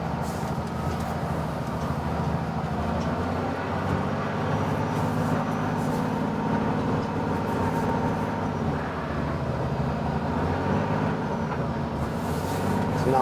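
Steady low rumble of a UNICAT expedition truck under way, a continuous loud engine and drivetrain drone that holds fairly even throughout, with no separate gear-change events standing out.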